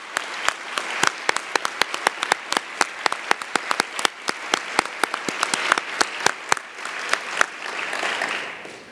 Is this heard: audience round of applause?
yes